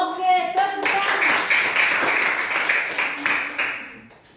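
Brief voices give way to a burst of hand clapping from a classroom group, a dense patter of claps that carries on for about three seconds before thinning out.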